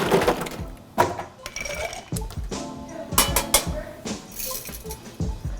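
Ice rattles and clinks against a metal cocktail stirring tin, with sharp knocks and tumbling cubes followed by steady stirring scrapes, close and busy throughout.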